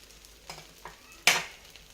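Soft scraping and light stirring in a pan, then a sudden loud burst of sizzling as oil hits the hot surface under a semolina dosa, fading over a second.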